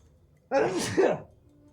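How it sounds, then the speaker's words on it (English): A single loud, close sneeze with a sharp intake and explosive burst, standing alone against a quiet background. "I'm gonna sneeze again."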